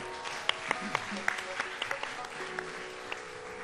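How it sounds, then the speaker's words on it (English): An audience applauds at a cultural stage event, steady clapping with sharp individual claps standing out, continuing throughout at moderate loudness. "So please give her a big round of applause."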